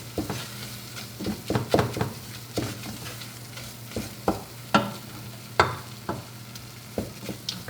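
A spoon works flour into melted butter in a pot for a German chicken pot pie, giving repeated scraping strokes with a soft sizzle underneath, close and fairly quiet, with no one talking.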